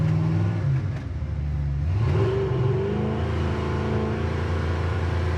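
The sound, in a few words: old truck engine running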